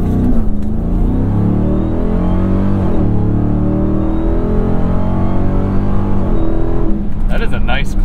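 A Ram TRX truck engine with an AWE 0FG exhaust revs and drones loudly from inside the cab, its deep exhaust note rising and falling steadily, with a voice speaking over it.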